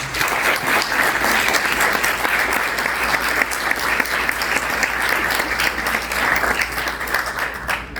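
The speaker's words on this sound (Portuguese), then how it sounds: "eu gostaria de pedir uma salva de palmas a todos que foram" Strong, continuous clapping from an audience at a law school oral argument contest, a loud, dense wash of applause holding steady for the full stretch.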